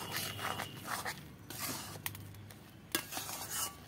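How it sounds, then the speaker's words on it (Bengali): Flour being stirred by hand into mashed potato to form a dough in a home kitchen, giving soft scraping and utensil-against-bowl clinks with a few sharper taps, close and fairly quiet. "এবার এই আটাটা দিয়ে আমি এইভাবে নেড়ে নেড়ে একটা ডো আকারে তৈরি করে নেব।"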